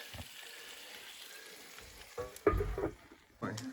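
Meat and potatoes cook in a pan in a village kitchen, a soft steady sizzle running underneath, with a few louder clunks and stirring knocks near the end.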